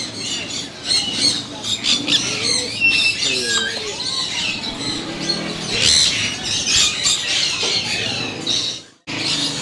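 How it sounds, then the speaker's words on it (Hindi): Desi ringneck parrot breeding pairs squawk and chirp in a busy exotic bird market shop, with many overlapping loud calls, background chatter and a brief dropout near the end. "जी ये देसी रिंग नेक के जोड़े हैं, ब्रीडर जोड़े हैं सब"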